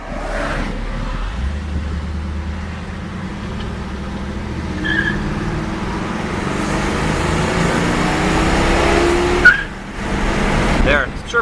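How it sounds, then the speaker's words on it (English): A 1979 Hurst Olds with a shift kit accelerates hard from inside the car, the engine roaring and building loudly before a brief tire chirp on the shift into second gear. "There, it chirps very nicely in the second gear, so it's a very strong transmission."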